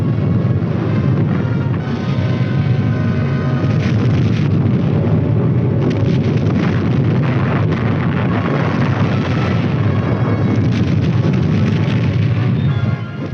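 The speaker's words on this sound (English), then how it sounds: "the supporting elements lay down a curtain of non-atomic fire" A 1950s US Army artillery barrage of non-atomic supporting fire, a dense, continuous roar of overlapping booms and rumbling blasts, loud and sustained throughout with no pauses.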